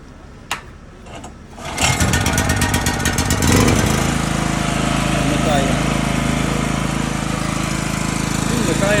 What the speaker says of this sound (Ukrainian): Генератор прогрітий трошки. Заводь.